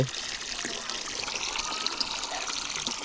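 Water pours and gushes steadily for bathing outdoors in a cold rural Lao setting, a continuous close splashing rush with no speech over it.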